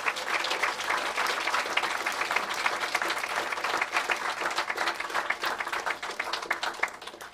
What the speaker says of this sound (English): And one more round of applause for all our speakers, entertainers, and authors.